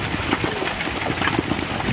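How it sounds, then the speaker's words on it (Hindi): A storm outside with rain pouring down, a dense, loud, steady hiss of drops on surfaces filling the whole stretch. "बाहर तो तूफान मचा हुआ है।"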